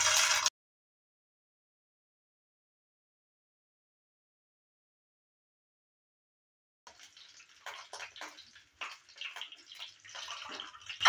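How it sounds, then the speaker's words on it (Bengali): Eggs dropped into hot oil in a frying pan for an egg and potato curry: a brief hiss, then near-silence, then a soft crackling sizzle builds and continues fairly close and moderately loud. "তেলটা হিট হয়ে গেছে, এবার দিয়ে দিচ্ছি ডিম।"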